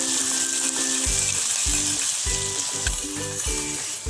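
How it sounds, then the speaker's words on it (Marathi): Chopped onion frying in hot oil for a Maharashtrian brinjal and potato gravy, a steady close sizzle with soft stirring scrapes recurring every half second or so, no voices. "कांदा छान भाजून घेते गोल्डन ब्राऊन पर्यंत"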